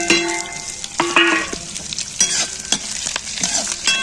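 Onion goes into a hot kadhai of oil already holding mustard seeds, chili and curry leaves, giving a close, steady sizzle broken by sharp clinks and scrapes of a stirring spoon against the pan.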